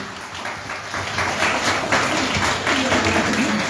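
An audience applauding at a book signing for a novel, loud close clapping from a crowd that swells and holds steady, with a brief murmur of voices beneath.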